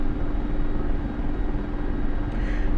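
Mi-24P Hind helicopter taxiing in the DCS flight simulator, a steady, loud, close turbine drone with low rotor rumble that holds unbroken throughout, no voices over it.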